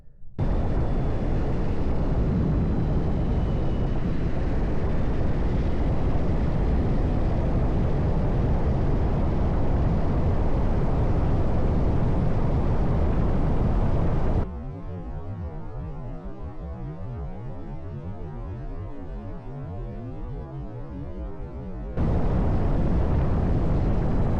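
A homemade 20HP electric motorcycle runs at full throttle in its highest power mode, a loud steady roar of motor and wind that drops to a quieter hum midway before surging back, with no talk.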